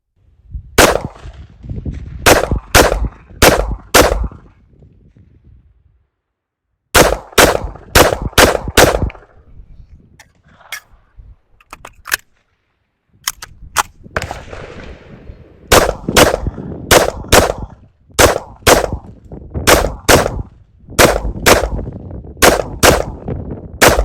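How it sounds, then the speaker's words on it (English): A Ruger LC Charger pistol in 5.7x28 fires in quick strings of sharp, loud shots, several bursts of evenly spaced reports separated by short pauses, with no talking. "let's get to a little bit more shooting then"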